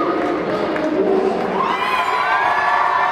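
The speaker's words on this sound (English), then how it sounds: "Zach Shetnerowski getting a loud cheer from fans" A large crowd of high school hockey fans at a state championship game cheers and shouts loudly in an arena, with whoops and children's voices in a continuous roar.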